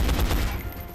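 A rapid burst of gunfire in XCOM: Enemy Unknown, loud close shots rattling in quick succession and then fading out over a second.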